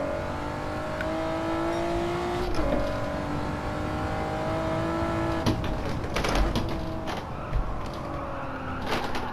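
A car in the video game Gran Turismo 7 drifting sideways, engine note rising and falling under steady tire noise, with sharp knocks as it slides, loud and continuous.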